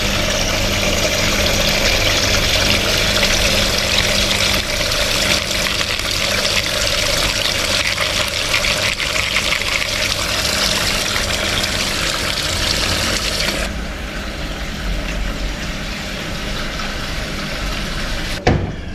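A washing machine at a laundry shop in Krabi, Thailand, fills with water in a steady rushing pour over a low motor hum, continuing until it cuts off near the end.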